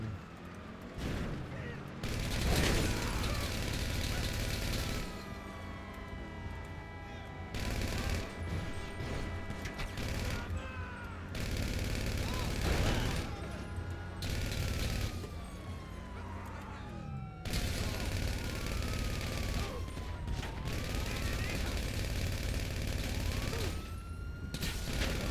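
Uzi gunfire rattles in repeated bursts during a video game, mixed with rising and falling sirens and other game noise at a steady moderate loudness.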